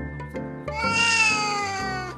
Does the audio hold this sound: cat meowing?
yes